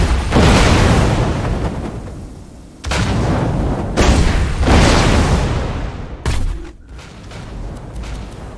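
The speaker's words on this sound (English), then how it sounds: "This is the shotgun." Shotgun blasts in Borderlands 2, several heavy booming shots spaced a second or two apart, each with a long rumbling tail, loud and close with no talking.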